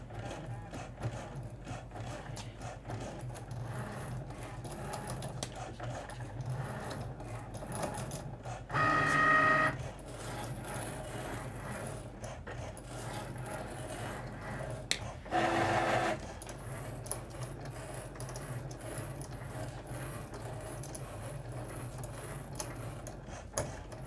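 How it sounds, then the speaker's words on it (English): A Cricut Maker 3 cutting felt gives a steady mechanical whir with faint ticking, running continuously and fairly close, with two brief louder buzzing bursts of carriage movement partway through and no talk. "I love watching these machines cut."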